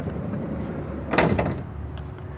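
A 2023 Winnebago Solis 59PX camper van's main door opens with a short mechanical clunk and slide in the middle, close by, over steady background noise.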